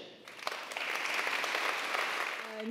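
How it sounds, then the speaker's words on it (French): Audience applause at a corporate diversity event welcoming its 2023 sponsor, starting after a short pause and quickly swelling into steady, full clapping from a seated crowd. "Merci d'applaudir Nicolas Huchet."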